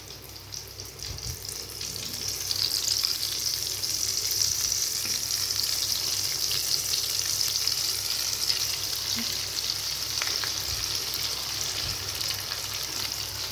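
Potato snacks fry in hot oil in a kadai, a steady close sizzle that grows fuller after the first few seconds and stays even, with a few faint clinks and no voices.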